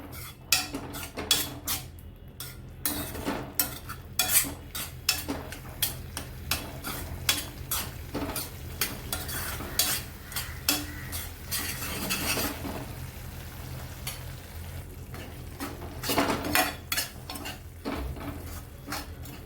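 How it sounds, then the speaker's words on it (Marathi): Masala for paneer chingari bhaji sautéed in a pan until dry: a steady stream of sharp, rapid spoon clacks and scrapes against the pan over low frying hiss, close up, with no voices. "आपल्याला पूर्ण मसाला हा ड्राय होईपर्यंत आपल्याला परतून छान घ्यायचं आहे."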